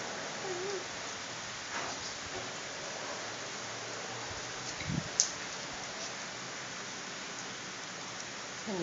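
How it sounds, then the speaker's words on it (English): Steady rain falling outdoors, a continuous hiss of drops with faint distant rumbles and a brief nearby bump, while a child plays outside in it. "Raindrops hit your belly?"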